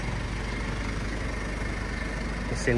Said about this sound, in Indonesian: Kita coba nyalain deh. Halus banget mesinnya